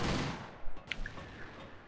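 A sniper rifle, the FR F2 in the shooter game Crossfire, fires once: a single burst at the start trailing into a fading echo tail, with a few faint clicks afterward, moderately quiet overall.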